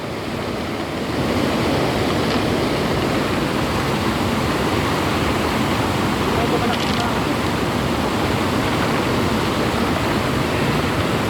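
Floodwater rushing past as a steady, dense, broadband roar that stays loud and unbroken throughout, heard close up with no clear voices over it.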